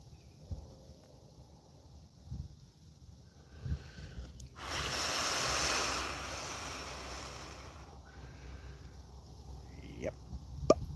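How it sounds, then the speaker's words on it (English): Wind on a wooded trail at Starved Rock rises into a broad, steady rushing gust that lasts a few seconds, then eases off. Faint scattered knocks and soft sounds come before and after it. "I'm talking about the wind."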